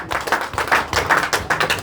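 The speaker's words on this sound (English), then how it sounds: "Please clap for Mr. Speaker." An audience at a public discussion event in Nigeria claps in a brisk, fairly steady rhythm of close, crisp hand claps.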